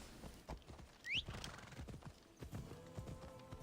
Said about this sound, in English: Ride, Phobos. For horse time